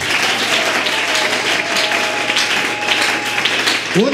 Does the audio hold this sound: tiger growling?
no